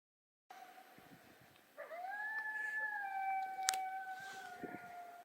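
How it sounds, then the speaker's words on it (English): Coyotes howl in the open desert on Pass Mountain Loop in Usery Park, a rising wavering wail that swells in after a quiet start and holds, joined by thinner higher yips, fairly distant and with no talk over it. "Hear the coyotes?"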